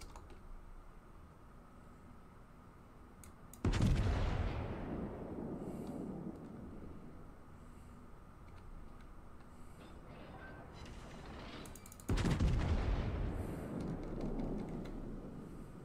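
Ship secondary guns firing in the World of Warships game, two heavy booming blasts several seconds apart, each trailing off in a long rumbling decay beneath faint background noise.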